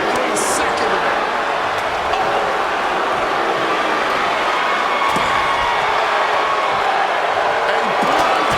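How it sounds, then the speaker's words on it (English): A wrestling crowd in the WWE 2K26 video game roars in a steady, continuous wash of cheering noise throughout, with a voice talking over it. "this crowd is loving every second of it"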